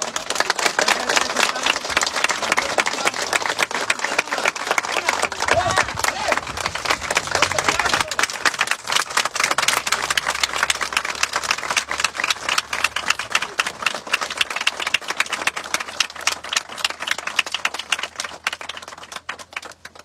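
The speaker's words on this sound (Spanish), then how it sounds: "acompañar con un fuerte y generoso aplauso" Mourners at a funeral burst into dense, sustained applause, many hands clapping steadily and fairly loud for about twenty seconds.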